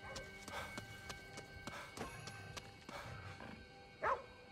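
A dog barks a few times in the Ghostwire Tokyo video game, with short sharp yelps spread across the clip and a louder bark near the end over a steady game ambience.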